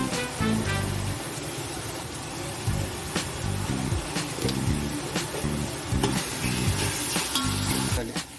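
Onions fry in a pan with ginger garlic paste for chicken donne biryani, a moderate sizzle underneath with scattered metallic clinks and stirring taps, plus a low hum in the background and no talking.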